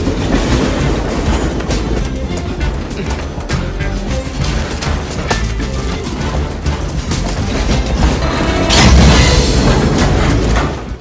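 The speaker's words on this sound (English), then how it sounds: "People and very slow-moving freight trains." Slow-moving freight trains in a movie chase scene, a loud continuous rumble with rhythmic clickety-clack of wheels and occasional heavy crashes, swelling louder near the end.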